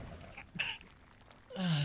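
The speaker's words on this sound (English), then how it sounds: "I'm gonna sneeze." A held-in sneeze from a person streaming a game comes as a brief, muffled burst near the start, followed by a short breathy sound at the end; no speech in between.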